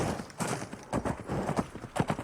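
Horse hooves clip-clopping in the Diabolist VR video game, a run of uneven hoofbeats at close range with a possible brief whinny, no talking over them.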